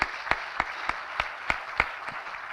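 At a university integration forum, a round of applause comes through as a steady stream of claps with sharp, evenly spaced peaks standing out, moderately loud and without talk.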